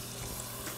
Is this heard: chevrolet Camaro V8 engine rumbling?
no